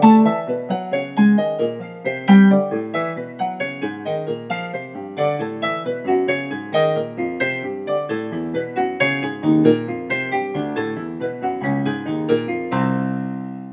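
Descending whole tone scale exercise on a pitched instrument, a busy continuous stream of notes working downward and ending on a held tone, close and clear without speech.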